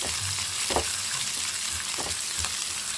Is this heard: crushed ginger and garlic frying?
yes